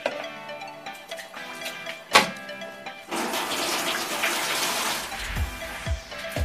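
Running tap water pours and splashes as a metal ladle is rinsed clean in a kitchen while sinigang is being cooked, a steady close rush of water following a few knocks and clinks.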